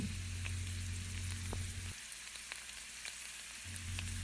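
Tomato and egg curry fries in hot oil in a pan, a constant close sizzle with faint scrapes from a ladle stirring it from top to bottom.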